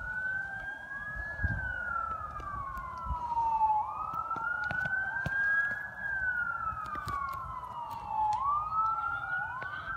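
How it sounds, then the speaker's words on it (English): Wailing sirens from an ambulance and fire truck heading to a fire, rising and falling in repeated sweeps at moderate distance with a low road rumble beneath. "Oh god, the ambulance are coming. There's the fire truck."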